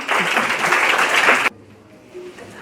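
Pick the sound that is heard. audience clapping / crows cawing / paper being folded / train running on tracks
audience clapping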